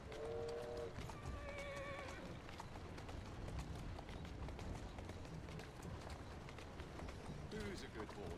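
A horse in the Assassin's Creed Syndicate video game whinnies loudly at the start and again near the end, while hooves clip-clop steadily throughout over constant game background noise.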